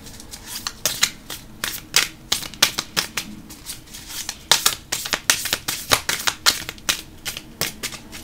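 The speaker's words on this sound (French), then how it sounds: "alors on va tirer 2 cartes" Tarot cards being drawn and laid out for a monthly reading, heard as a steady run of crisp close-up snaps and flicks, roughly two or three per second, with no talk over them.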